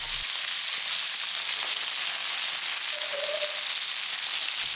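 Chicken pieces pan-frying in a hot wok give off a steady, even sizzle throughout, loud and close, with no talking over it.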